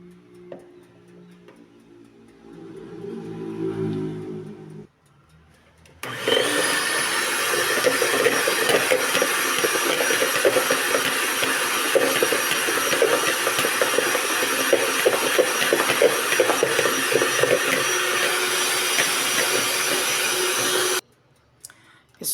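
After a brief quieter stretch, an electric mixer starts and whips boxed chantilly cream with a loud, steady whirring drone that runs unbroken for about fifteen seconds before cutting off.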